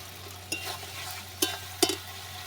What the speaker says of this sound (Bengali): ভালো করে নাড়াচাড়া করে দিলাম।